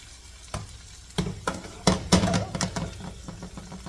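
Pork sizzles in a hot greasy pan as it is sautéed, with sharp stirring scrapes and bursts of crackling that grow louder after a quiet start, close and continuous with no talking.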